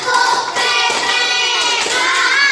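Group of students and teachers doing a rhythmic clapping routine at an Indonesian school activity, a quick run of patterned claps close by, mixed with chanting voices across the whole stretch.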